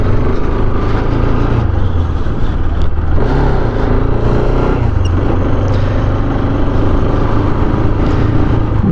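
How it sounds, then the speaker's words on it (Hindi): A Yamaha R15 motorcycle rides past, its engine droning loud and steady throughout with slight shifts in pitch as it moves along the road. "और ये जा रहा है अपना R15,"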